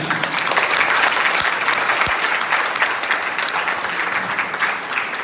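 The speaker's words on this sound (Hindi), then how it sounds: "तो एक बार अपने लिए जोरदार तालियां।" Loud, sustained clapping from an audience at a yoga instructors' honour ceremony, dense and even throughout with no pauses.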